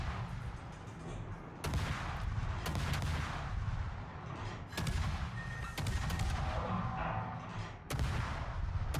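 Naval gunfire in World of Warships: heavy booming salvos about every second or two over a constant roar of battle rumble, loud and with no talking.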